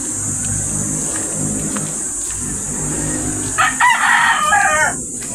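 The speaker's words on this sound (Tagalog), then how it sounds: "Mga manok." A rooster crows once near a riverside, a loud ragged call late in the sequence, over a steady high hiss of background noise and faint rustling.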